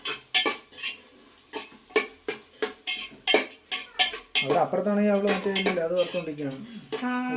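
A spoon scrapes and taps against a pan in a steady rhythm while ginger and garlic sauté for a quick biryani. Around a dozen crisp, close strokes come first, then a voice speaks over continued stirring.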